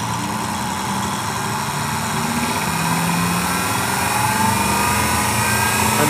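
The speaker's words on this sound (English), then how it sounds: "the distributor machine has a variable speed motor, and we can check the ignition advance when it's currently idling" A distributor test machine's variable-speed motor idles at constant speed, a continuous low mechanical hum with faint whine, fairly loud and close, no voices.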